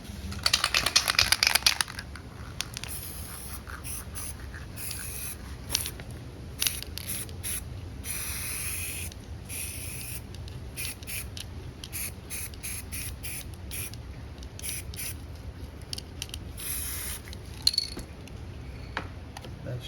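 Yellow spray paint hisses from an aerosol can through a stencil, one loud close burst at the start followed by a long stretch of short, quieter sprays and faint clicks and rattles from the can.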